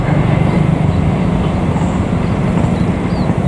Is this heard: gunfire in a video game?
no